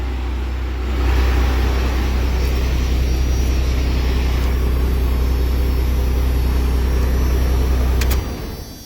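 A 500hp second-generation Cummins diesel truck engine idles with a loud, steady low rumble, then cuts off abruptly near the end, leaving silence.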